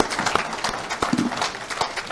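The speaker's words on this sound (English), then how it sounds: "Give everyone up here a round of applause," A small audience at a real estate finance panel claps in uneven, scattered bursts, fairly close, with no one talking over it.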